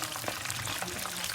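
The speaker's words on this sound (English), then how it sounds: "we dry it before frying so we can avoid the splatter" Chicken pieces frying in hot oil, a steady close sizzle and crackle filling the short stretch without pause, no voices.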